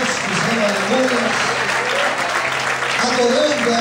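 A church congregation applauds continuously, loud and close, while a voice speaks and calls out over the clapping throughout.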